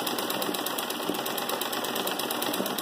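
A sewing machine does machine embroidery, stitching a thread shade onto fabric with a steady, even mechanical whir and fast stitch rhythm that runs without a break and without talk.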